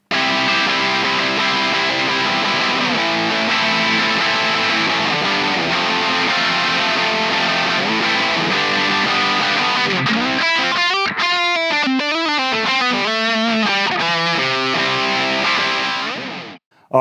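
Loud, heavily distorted electric guitar chords through a Marshall JCM900 tube amp ring out in a punk rock tone, followed by a quick run of choppy, palm-muted notes before cutting off abruptly.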